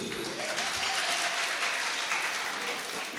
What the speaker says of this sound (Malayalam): നിങ്ങളുടെ കയ്യടികളോ മെച്ചം. ഒന്ന് കയ്യടിക്കൂ.